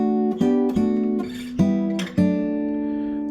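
Guitar triad chords strummed evenly on a solo guitar, five or six sustained strums that ring into each other, close and clear with no talking.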